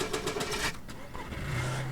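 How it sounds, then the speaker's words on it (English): In the video game DayZ, a car engine cranks with a short rattling burst, then catches into a low rumbling idle, heard nearby with no speech over it. "Let's start the car."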